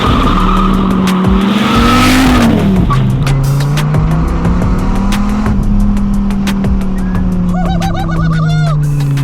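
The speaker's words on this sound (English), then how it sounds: "Nothing's worse than a 600 horsepower car squealing the tires when you slam into second gear." A 600-horsepower LS-swapped Mazda Miata drift car launches hard, its engine roaring loud and close as the tires break into long, rising squeals through the shift into second gear.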